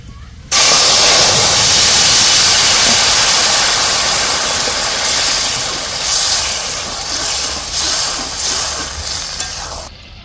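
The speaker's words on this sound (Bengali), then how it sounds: "জিরে একটা রাঁধুনি হাতে একটু ঘষে দিয়ে এবার ঢেলে দেবো" Cumin and radhuni spices, hand-rubbed and poured into a hot pan, hit with a sudden loud, steady hiss that starts abruptly and keeps sizzling for several seconds before easing slightly.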